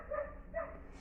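Two quick, muffled barks from a neighbour's dog carry in from nearby, faint and somewhat distant within a quiet indoor room.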